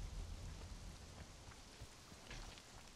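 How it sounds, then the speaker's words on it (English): Steady rain hisses down in the survival game Conan Exiles, a soft, even wash of patter that swells slightly near the end, with no voices over it. "It's rain. It's raining,"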